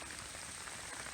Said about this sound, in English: Been raining on and off for the last 2 days